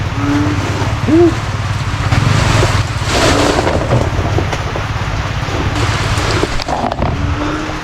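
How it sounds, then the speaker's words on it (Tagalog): Rain falls steadily on a farm in an overnight downpour, a dense close hiss that stays loud throughout, with a low rumble underneath. "Tingnan nyo, magdamag ang ulan."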